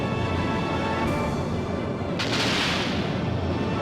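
Booming airship cannon blasts in Skies of Arcadia Legends sound over a dense, continuous rumble of in-game action, with a sharp burst followed by a rushing swell.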